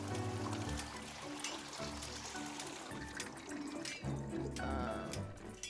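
Water runs steadily in the game Wanderstop, a continuous trickling pour with no clear pauses, heard alone at moderate level over a faint low hum.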